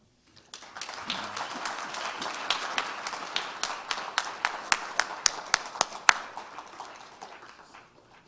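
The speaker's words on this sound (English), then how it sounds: "Another round of applause for City Council President Brenda Jones." Audience applause at a Chicago health and wellness fair for a city council president, a crowd clapping steadily at moderate distance, with several sharp nearby claps standing out in a regular rhythm before fading.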